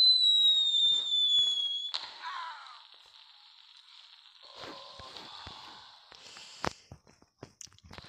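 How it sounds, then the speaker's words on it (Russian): Fireworks set off at the neighbor in the video game Hello Neighbor on Android: a whistling launch fades into a burst of crackling and fizzing pops, followed by scattered sharp bangs and clicks, fairly close and alone without talk. "Для начала ему нужно салют запустить в лицо."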